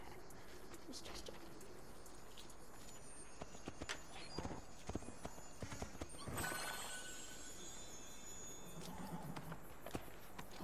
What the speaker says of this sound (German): Mal ein bisschen Sport treiben mit dem Pferd hier.